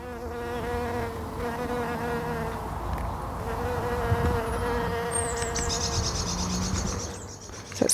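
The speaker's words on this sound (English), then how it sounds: "There's a bee nearby. See if I can get some bee sounds." A mostly black bee with big yellow pollen pouches on its legs buzzes nearby as a steady, continuous drone, with birds chirping in the background and a brief high call near the end.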